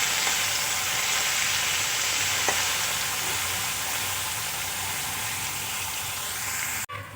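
Chopped potatoes and carrots frying in oil in a pan, a constant close sizzling hiss that holds steady for several seconds with a faint tap of stirring, ending in a brief knock and a sudden drop.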